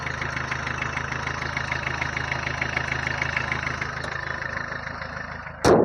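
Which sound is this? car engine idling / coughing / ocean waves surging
car engine idling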